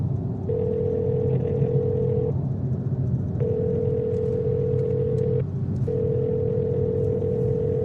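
A telephone ringback tone sounds in long steady pulses, three rings separated by short pauses, over a low background rumble.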